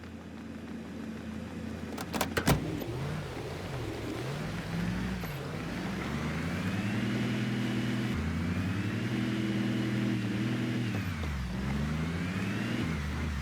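A truck drives in Project Zomboid, a steady engine drone that rises and falls in pitch as it accelerates and slows, continuous and fairly close, with a few sharp clicks near the start.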